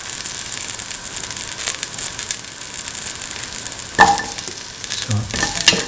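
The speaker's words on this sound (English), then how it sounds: "Put in the shallots." Shallots frying in a pan sizzle steadily while being stirred, with a sharp clatter partway through and a busier burst of sizzling and scraping near the end. No one talks.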